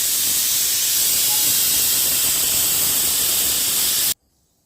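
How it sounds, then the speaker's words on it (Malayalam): After its whistles, a pressure cooker cooking chicken curry vents steam in a loud, continuous hiss that stops abruptly near the end, leaving near silence. "ആവി പോകുന്നവരെ നമുക്ക് വെയിറ്റ് ചെയ്യാം"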